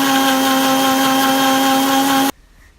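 A loud, steady blender motor whirs with a strong constant hum while mixing mango lassi with ice water, then cuts off abruptly near the end, leaving near silence.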